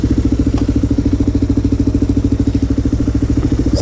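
A Kawasaki KLR motorcycle runs while being ridden through New York City streets, its single engine chugging in a loud, steady, close pulsing thump with clattery mechanical texture.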